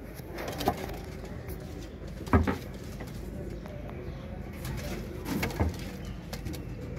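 Pigeons coo softly in low, throaty bursts over a steady background hum, with a couple of louder calls standing out.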